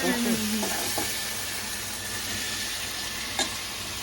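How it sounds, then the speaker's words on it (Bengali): Potato and pumpkin pieces hit hot oil in a pan, giving a continuous moderate sizzle with a brief voice at the start and a small clatter near the end. "এবার আলু কুমড়োটা দিয়ে দিতে হবে"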